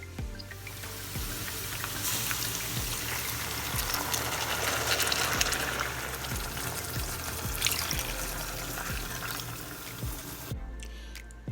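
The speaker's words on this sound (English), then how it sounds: "I'm about to pour the water in there" Two cups of water poured into a pot of rice for shrimp fried rice, a steady rushing splash lasting several seconds before it stops abruptly, close and fairly loud.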